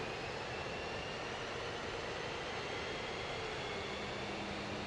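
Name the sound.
F-15E jet fuel starter whine, DCS video game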